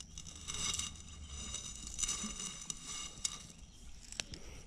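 Gravel scraping and crunching against the tip of a metal ground probe pushed into diamond-bearing soil at a crater field, heard as faint gritty scratches and a few sharp ticks close by.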